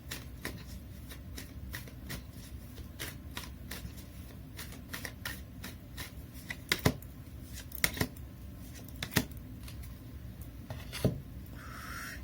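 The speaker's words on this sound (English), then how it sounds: "So let me pull some cards from the universe for you." Tarot cards being shuffled by hand during a card reading, a steady run of crisp riffling clicks and flutters with a few sharper slaps, close and fairly quiet, with no talking.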